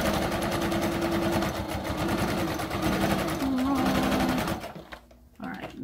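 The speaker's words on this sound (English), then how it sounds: "All right, back stitching." A sewing machine back stitching fabric runs in a fast steady mechanical chatter that lasts several seconds, then slows and stops, while a voice speaks over it.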